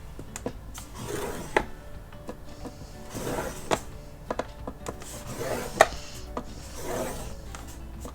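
Paper is scored on a scoring board while making mini album hinges, giving soft rubbing, scraping strokes with a few sharper clicks, close and fairly quiet, repeated at intervals.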